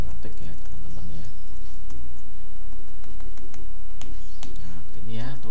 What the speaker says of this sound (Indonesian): memang harus mengetik ya teman-teman ya